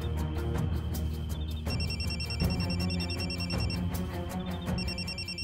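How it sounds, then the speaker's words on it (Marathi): A telephone bell rings steadily in repeated bursts, loud and close, in a home in a Marathi TV serial, with no talk over it. "नंदिता कशाला फोन करायला लागल्या?"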